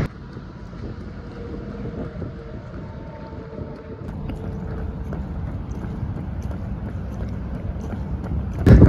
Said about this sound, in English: It's gotten really windy on the way back.